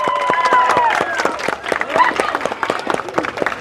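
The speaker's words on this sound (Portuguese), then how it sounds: "Salva de palmas!" A group gives a round of applause for teachers during a visit to a military barracks, with scattered, uneven claps mixed with excited voices and whoops, close and lively.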